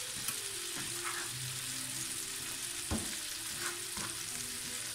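Butter and sugar for a tarte tatin sizzle steadily in a hot tart tin, a close, continuous frying hiss broken by a few sharp clicks and scrapes of stirring.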